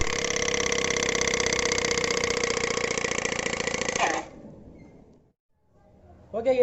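A bicycle rigged to imitate the engine of a KTM Duke motorcycle gives a loud, steady, buzzing engine-like drone for about four seconds, then cuts off abruptly into quiet background noise.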